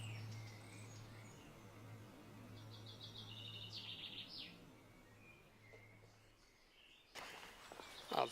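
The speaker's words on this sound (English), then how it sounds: "now just birdsong." Faint birdsong chirps and tweets drift in from a distance along the quiet disused Kemble–Cirencester railway line near an old canal towpath in the countryside, over a low hum and soft footsteps.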